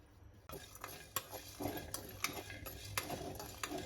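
Whole garam masala spices stirred in a pan on the stove, a faint dry sizzle broken by repeated clinks and scrapes of a spoon against the metal, with no talking.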